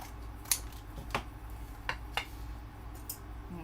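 Scissors snipping fabric scraps, a handful of short, crisp cuts spaced irregularly over a quiet room background, close by and with no talking.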